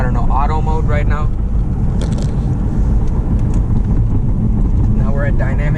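Steady road and wind roar fills the cabin of an Audi TTS on the move, a constant low rumble with a hiss as though a window were open, and a person talks over it now and then.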